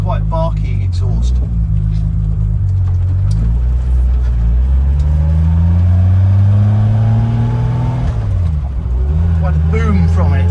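A Triumph Vitesse's straight-six engine hums loud and close with a deep, barky exhaust note that climbs steadily in pitch as the car accelerates, then dips during a gear change, with someone talking over it.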